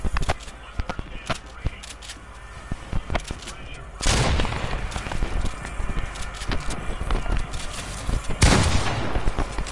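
Gunfire in a one-on-one video game: a run of sharp, close shots with two louder, heavier bursts, set over a busy layer of rapid clicky game noise.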